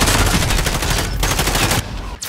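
Rapid video game gunfire, a dense automatic burst of shots that runs loud and continuous for about two seconds before cutting off.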